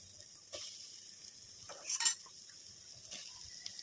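Soybeans being stirred into a cooked masala in a pan for biryani, with a few soft scraping, sizzling swirls spaced through a quiet stretch.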